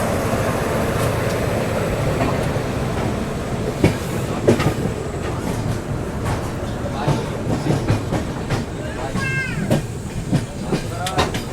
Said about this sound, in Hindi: ये लग रही है Sevagram express, CSMT Nagpur Sevagram express.